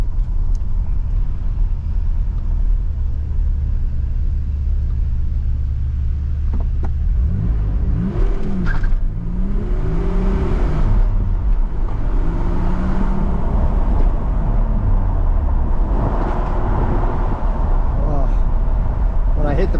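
A 1986 Nissan 300ZX Z31 pulls away on a test drive, its engine rumbling low and steady before building into louder acceleration with gear changes, while people talk over the cabin noise throughout.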